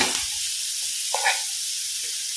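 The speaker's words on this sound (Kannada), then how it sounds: "ಇದನ್ನು ಫ್ರೈ ಮಾಡುವ ಈರುಳ್ಳಿ ಫ್ರೈ ಆಗಲಿ" Onion and curry leaves fry in oil on a tava, giving a constant bright hiss with a short, slightly louder sputter partway through.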